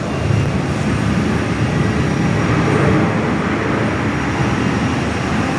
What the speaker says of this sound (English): In front of us is the Virgin Aussie 737-800, just landed on 24.